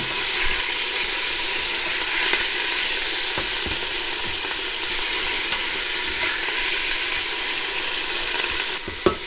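Beef sizzles steadily and loudly as it is sealed in a hot pan, with a continuous hiss and occasional crackles throughout.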